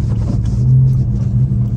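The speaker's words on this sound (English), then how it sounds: "Reparking my hybrid vehicle." A hybrid car being reparked, with a low steady rumble of the vehicle moving close by that swells slightly midway and carries on evenly, no talk.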